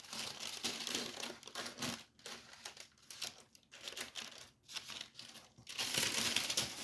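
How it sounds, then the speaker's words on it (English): Parchment paper peels away from rolled fondant on a cake, with close, soft crinkling and crackling in irregular bursts and brief pauses between them. "And I'm going to take the parchment paper off."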